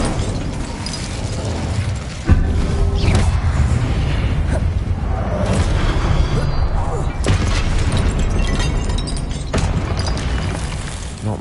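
Spell combat in Hogwarts Legacy on PS5, with an Incendio fire spell cast amid other spells: a sharp burst near the start, then a dense, loud wash of whooshes, crackles and booming impacts running throughout.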